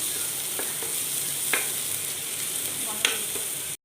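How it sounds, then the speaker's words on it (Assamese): A ground paste of black pepper, cumin, ginger and garlic fries in hot oil with a steady close sizzle, broken by a few soft stirring scrapes, no voices. "জালুক, জিৰা, আদা, নহৰু পেষ্টটো দি দিছোঁ। এতিয়া অকণমান এইটো ভাজিম।"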